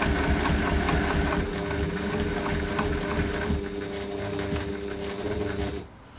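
A sewing machine top stitching a bag at a 3.1 stitch length runs steadily with a fast mechanical whir and rhythmic needle chatter, close and loud, then slows and stops at the end.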